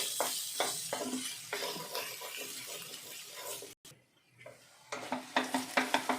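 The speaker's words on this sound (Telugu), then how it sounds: "బంగాళదుంప ముక్కలు బాగా ఫ్రై అయిపోయినాయి, ఆయిల్లో ఇలా మగ్గిపోయినాయి కదా" Potato pieces sizzle in hot oil for a potato and fenugreek curry, a spoon scraping and stirring them in repeated strokes; the frying drops out briefly partway through, then returns with sharper clinks of stirring.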